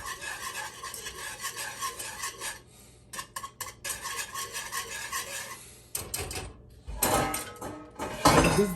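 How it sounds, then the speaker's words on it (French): Soup whisked briskly in a pot, a steady scraping and swishing of metal against the pot that runs nearly continuously, with brief pauses and louder, rougher strokes toward the end. "La soupe qui fouette."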